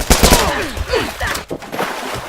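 Rapid submachine gun bursts from the video game The Culling, loud and close, several quick volleys of automatic fire with brief gaps, no talk over it.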